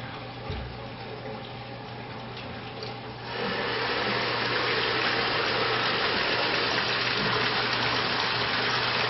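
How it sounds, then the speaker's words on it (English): Leftover water emptying from the pipe of a Navigator thermostatic mixing valve test rig, a moderate rush that swells into a loud, continuous gushing flow and holds steady for several seconds. "now we're just emptying out what's left over in the pipe"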